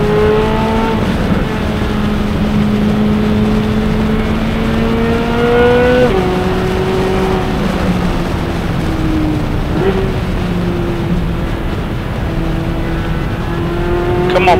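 Race cars, including a Porsche, roar around the Road Atlanta circuit, with a loud engine droning close by and shifting pitch through gear changes over the whole stretch as a voice talks over it.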